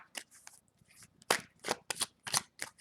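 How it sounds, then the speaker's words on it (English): Tarot cards being shuffled by hand in quick bursts of crisp riffling and flapping, several close, distinct shuffles with short pauses between, no talking. "Might have to shuffle them up again."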